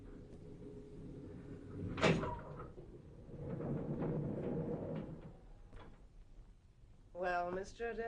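Self-operating lift doors in an old building close with a sharp clunk, followed by a low mechanical rumble; a voice speaks briefly at the end.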